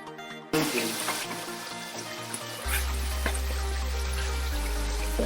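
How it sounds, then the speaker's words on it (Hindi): A ladle of yogurt fries in a pan for Lahori chana, giving a steady, moderately loud watery sizzle with a low hum underneath and no talking. "दही जो मैंने डाली इसे थोड़ा सा फ्राई करेंगे, इसका जो पानी है वो खुश्क हो जाए।"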